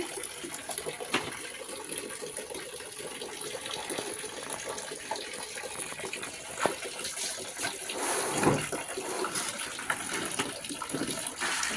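Clothes are washed by hand with soap and water: continuous close splashing and sloshing at a low level, with occasional louder wet slaps and rubbing.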